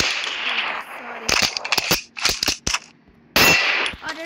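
Gunfire from the Free Fire battle-royale game: bursts of sharp synthetic shots in quick irregular clusters, loud and close, separated by brief gaps, with some game ambience around them.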